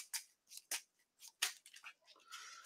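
Playing cards shuffled during a tabletop card game, heard as a series of short, crisp riffling bursts with brief pauses between them, close and moderately loud, with no talking.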